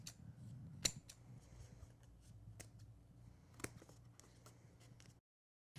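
Scissors snip through excess craft foam in a few sharp, close cuts spaced irregularly over a quiet room hum, ending in silence.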